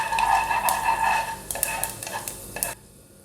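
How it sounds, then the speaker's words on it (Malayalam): Mustard seeds and urad dal frying in hot sesame oil in a pan, with a close, steady sizzle and quick popping crackles that stop abruptly. "കടുക് പൊട്ടി വരുമ്പോൾ അതിലേക്ക് ഉഴുന്നുപരിപ്പ് ചേർത്ത് കൊടുക്കാം."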